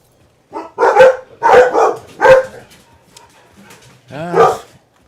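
Several dogs bark indoors, reacting to a car door closing outside: a handful of loud, sharp bursts in quick succession, a short pause, then one final bark, against an otherwise quiet room.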